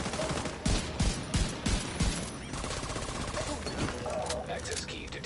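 Rapid bursts of gunfire in The Division 2, several sharp shots in quick succession over a dense, noisy game mix with explosions and talk underneath.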